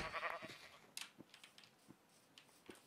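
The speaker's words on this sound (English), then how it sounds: "I just killed a sheep and its baby" In the Minecraft video game, a sheep and its lamb give a short bleat followed by faint clicks and small hit sounds, quiet and close.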